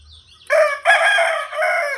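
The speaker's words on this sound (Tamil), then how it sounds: "ஒத்த காலிலே கூவுற சேவலை பார்த்துருக்கீங்கள?" A household rooster standing on one leg crows loudly and close by, a single long cock-a-doodle-doo broken into bright strained phrases.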